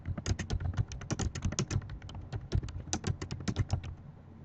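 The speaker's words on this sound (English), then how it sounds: "We would type in the title of the web page here." Quick, even keystrokes on a computer keyboard as a web page title is typed, a close, light clatter of rapid clicks running throughout with no talk.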